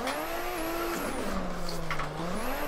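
A Nissan Skyline R32 drifting in the Assetto Corsa racing game: a loud, sustained engine drone that shifts pitch as the revs change, with tire squeal over it and no voices.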